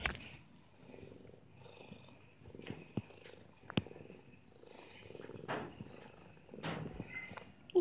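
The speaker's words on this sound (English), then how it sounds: "I don't know if you can hear him purring" A tomcat purring close by, a soft low continuous rumble broken by occasional clicks and bumps of movement, quiet throughout.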